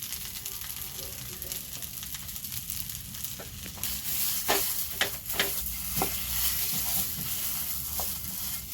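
Salt being stirred into a batter in a bowl, producing a continuous wet scraping and sloshing texture with a series of sharper spatula knocks and scrapes in the latter half.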